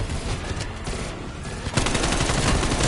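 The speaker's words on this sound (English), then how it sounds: "Did you put down a sentry gun?" Sentry gun in a video game opening fire, rapid automatic shots starting as a scattered rattle, then thickening into a loud, dense, continuous stream of gunfire for the second half.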